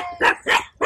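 Three quick, loud barks from a nearby dog in a botanic garden, evenly spaced in a short burst.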